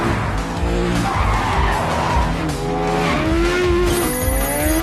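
A motorbike and a car racing in a chase, with tires squealing and skidding loudly over roaring engines, sustained and close, with no voices.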